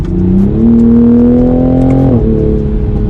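A turbocharged A90 Toyota Supra engine revs hard and climbs in pitch as it accelerates, loud and close, then drops briefly at a gear change before pulling again.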